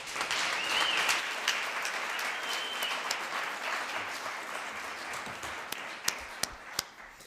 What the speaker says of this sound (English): Let's give Jim another round of applause